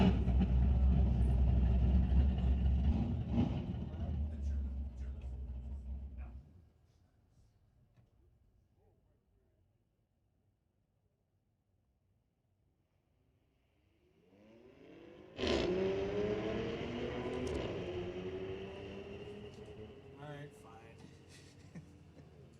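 Drag race at Mission Raceway Park, with a 2023 Porsche among the cars: a loud engine roar at the start fades to near silence, then a sharp renewed burst of revving engines returns, with an announcer talking over it.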